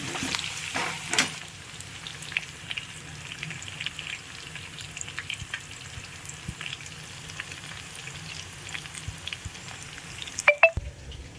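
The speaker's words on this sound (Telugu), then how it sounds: "బ్రౌన్గా వచ్చేటట్టు వేయించాలి నూనెలో" Chicken pieces fry in oil for a preserved pickle, a steady close crackling sizzle with a few louder utensil knocks at the start and near the end.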